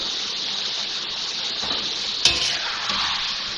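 Garlic paste fries in a pan for a chicken karahi, giving a steady close sizzle with a sudden louder crackle burst partway through, heard without speech.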